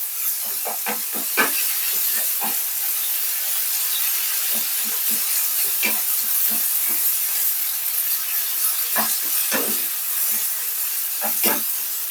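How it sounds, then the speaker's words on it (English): Butter sizzling in a hot pan, a loud continuous hiss close up, broken by scattered crackles and pops. "I'm gonna add a bit of butter, and this will help flavor it"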